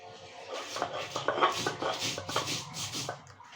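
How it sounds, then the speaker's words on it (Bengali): Red chillies and salt ground on a stone, a rough, irregular rubbing and scraping with quick repeated strokes, fairly close and moderately quiet. "প্রথমে আমি নুন দিয়ে লাল মরিচগুলো একটু বাইটে নেব"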